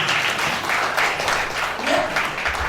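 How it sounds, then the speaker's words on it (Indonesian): A church congregation applauds at a Sunday service, a steady wash of many hands clapping throughout, moderately loud with no pauses. "Yang setuju berikan tepuk tangan."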